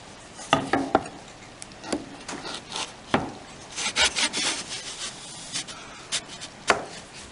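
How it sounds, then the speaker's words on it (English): A handsaw cuts tenons on two sides of a garden bench part held in a tenoning jig, giving irregular rasping strokes with sharp scrapes, fairly close and moderately quiet, with no voices. "I cut my tenons just on two sides of them"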